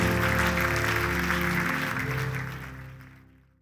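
A church congregation applauds at the close of a French-language service, a dense, steady wash of many hands clapping together that holds evenly and then tapers off to silence.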